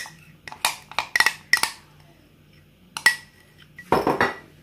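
Mug cake batter is scraped from one cup into a smaller cup, giving a run of sharp, close spoon-on-ceramic clinks and taps in uneven clusters with quiet gaps between them.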